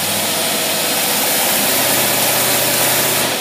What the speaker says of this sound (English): put her in gear. Let's put a load on. With a big time load here.